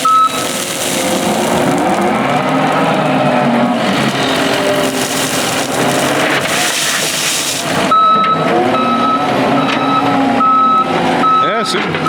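A John Deere skid steer's engine drones loudly, then its reversing alarm sounds as a series of evenly spaced, piercing beeps over the running machine.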